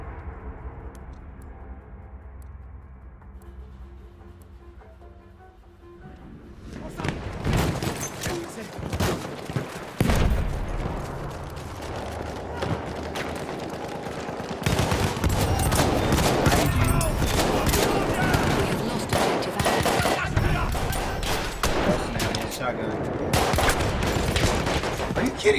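Rapid gunfire from a weapon in Battlefield 1 multiplayer breaks out after a quieter start and continues as loud, dense bursts of shots with battle noise around them.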